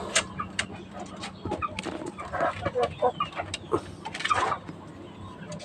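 Rhode Island Red hens and 45-day chickens cluck and call in short, irregular bursts nearby, with a faint background hum.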